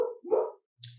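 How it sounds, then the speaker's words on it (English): A pet dog barking indoors at home, one short bark and whine followed by a quick yip, close and moderately loud, all within about a second. "I'm working at home today and my dog is barking."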